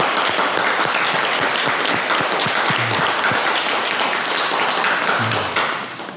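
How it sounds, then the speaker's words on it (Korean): A crowd at a Buddhist all-night prayer closing ceremony claps steadily and loudly, dense applause that fades at the end. "여러분 큰 박수 부탁드립니다"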